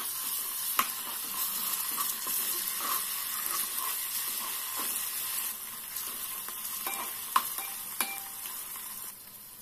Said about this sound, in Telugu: ఉల్లిగడ్డ పేస్ట్ వేసి ఫ్రై చేసుకోవాలి